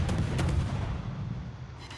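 Heavy shells roar out from a warship's guns in a naval combat video game, a dense, booming blast that fades into a rumbling tail, loud and close with no talk.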